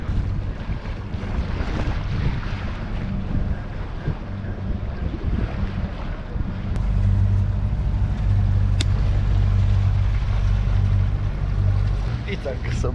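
Yacht sailing on the ocean off Tenerife, with steady wind buffeting and water rushing against the hull throughout, a low rumble growing louder in the second half, and people talking over it.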